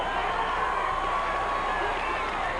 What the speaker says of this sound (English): You hear the crowd get into this.